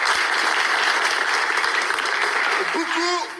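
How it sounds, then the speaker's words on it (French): A crowd in a house claps steadily for a few seconds in a dense, even wash of applause, which fades as a short tonal sound cuts in near the end. "Applaudissements encore une fois"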